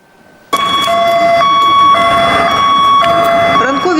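A loud wailing emergency vehicle siren starts abruptly and holds steady, with bright sustained tones that waver slightly, at a rescue service training exercise at a shopping center in Cherkasy; faint voices and background noise sit underneath.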